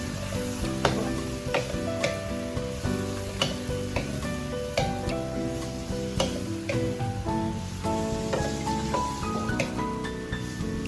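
Vegetables sizzle and crackle steadily in a hot pan with oyster sauce while being stirred, with music playing in the background throughout.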